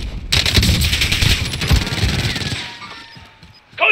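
Rapid automatic gunfire from a Call of Duty Warzone firefight, dense bursts filling most of the stretch before tapering off, with a sharp shot returning at the very end.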